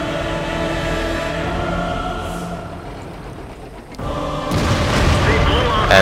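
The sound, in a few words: tank cannon shot from a video game, World of Tanks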